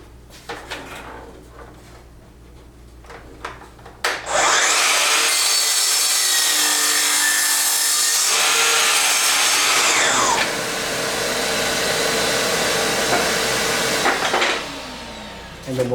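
A saw cuts the edge off a wooden board for a router table base in a workshop. After a few quiet seconds it starts abruptly as a loud, steady, roaring cut that lasts about ten seconds, then winds down.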